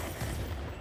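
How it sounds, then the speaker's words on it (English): A rocket strikes an enemy plane during an XF5U flight combat game, giving a short, muffled boom that fills the whole moment at moderate level with no voices over it. "I hit him with a rocket"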